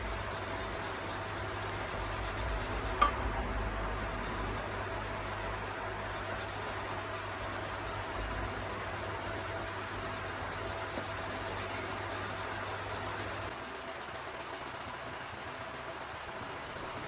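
Steady close rubbing and hissing as a V10 stainless steel kitchen knife blade is hand-polished with 1000 and 2000 grit waterproof sandpaper wrapped around a wooden sanding block, with polishing fluid applied, continuous strokes under a faint background hum.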